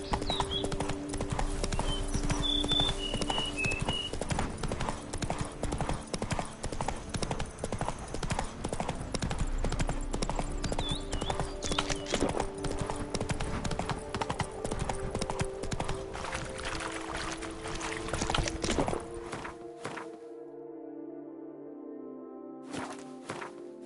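A horse trots in The Witcher 3 on PS5, with steady rhythmic hoof clip-clop close up throughout, saddle jingle over it, and a short music sting near the end once the hooves fade.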